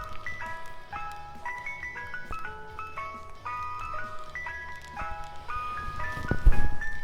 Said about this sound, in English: You heard the ice cream truck out there?